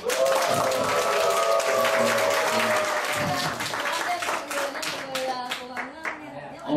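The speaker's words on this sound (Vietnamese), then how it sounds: "chúng ta hãy dành cho đội Action Team một tràng pháo tay thật lớn được không ạ?" A crowd applauds for a team at a Vietnamese gathering, loud sustained clapping under music-like tones and a voice talking over it, the claps thinning near the end.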